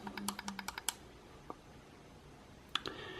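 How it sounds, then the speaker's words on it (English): A Vaporflask Classic vape's fire button pressed five times in a quick series of small sharp clicks, then a lone click and a last pair after a pause, close and crisp in a quiet room. "to turn the device on, you will click your fire button 5 times"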